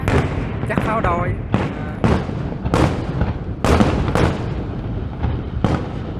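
New Year fireworks in Vietnam bang out in a series of sharp, loud bursts roughly every second, with people chatting between the blasts.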